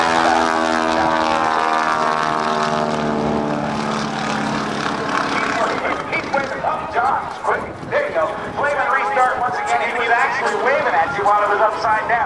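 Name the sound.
1943 Stearman biplane propeller engine during airshow aerobatic pass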